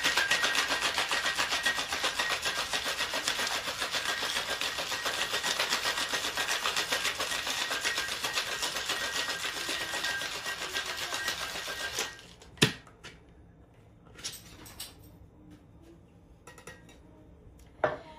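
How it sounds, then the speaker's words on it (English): A cocktail shaker tin full of ice, holding a tropical kiwi coconut cocktail, is shaken hard. The dense, rapid rattling of ice is close and loud for about twelve seconds, then it stops and a few scattered clinks and knocks follow. "we're going to shake this until the shaker tin is nice and cold in our hand"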